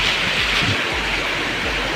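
Steady, dense rush of a village waterfall, water pouring down over a hillside, a constant broadband roar that fills the whole moment with no pauses and no voices.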